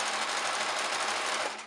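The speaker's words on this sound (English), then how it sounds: "swivel my fabric, and sew right along this line" A sewing machine runs a continuous, close, steady burst of stitches along a marked line on clutch fabric. It is brief and uninterrupted, with no voices.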